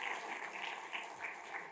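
Church congregation clapping together during a Sunday morning service, a soft, fairly faint patter of many hands lasting under two seconds with no voices over it.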